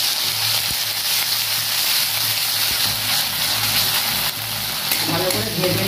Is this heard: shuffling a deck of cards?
no